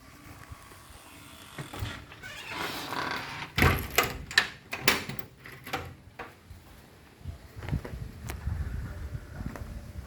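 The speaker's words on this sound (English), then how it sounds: "This door keeps opening in the wind." Wind from a typhoon pushes a door open, and it knocks and rattles in a cluster of sharp bangs over a steady, low wind roar.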